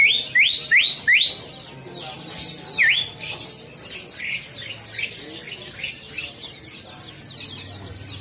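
Caged songbirds at a bird market kiosk chirp and whistle loudly and close by, with rapid repeated upswept calls from several birds overlapping over faint background murmur.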